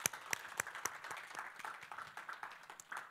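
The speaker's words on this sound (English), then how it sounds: "One more round of applause for our mothers." A church congregation gives a round of applause for mothers, fairly quiet and a little distant, with crisp individual claps repeating over a softer bed of clapping that rises and falls.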